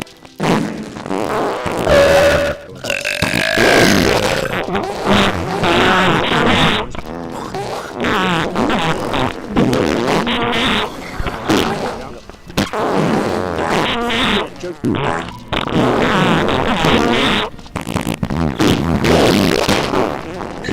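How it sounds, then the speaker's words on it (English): Loud, repeated fart sounds come from a device in a rapid, sputtering series across the whole stretch, with brief gaps between bursts. "the first thing I hear are loud farts"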